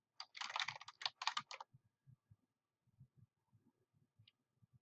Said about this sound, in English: We can get there by just typing ol.baker.edu for our environment.